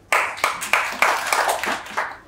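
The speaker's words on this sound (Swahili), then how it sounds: "Sawa, pigeni makofi." An audience at a sales training session claps in scattered, separate hand claps, about seven sharp hits spread unevenly over a couple of seconds.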